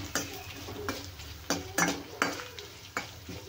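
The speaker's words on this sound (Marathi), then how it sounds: "इथे तडका आहे आपला तयार." A tadka of tempering spices in a pan, with a soft ongoing sizzle broken by sharp repeated clinks of a spoon stirring against the metal, close and fairly quiet.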